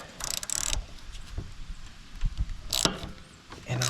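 A ratchet driving a 1/2 inch socket on a 3/8 drive loosens a bolt on a Cub Cadet's steering, giving a few bursts of clicking ratchet strokes up close with pauses between them.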